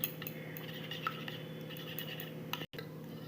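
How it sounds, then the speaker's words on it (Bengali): A utensil clinks and scrapes against a bowl while beaten eggs are mixed with salt, turmeric and chilli powder. The taps are light and repeated over a steady hum, broken by one brief gap. "এবার এটাকে ভালো করে মিশিয়ে নেব"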